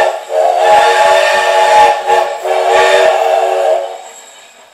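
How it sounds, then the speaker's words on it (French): A steam train whistle sound effect blows loud and close in two long, shrill blasts with a brief gap between, trailing off into a fading hiss. "train vapeur sirène"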